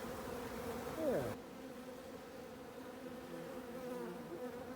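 Honey bees buzz steadily inside a hive built in a flat roof, a continuous close hum with a brief louder pass near the start.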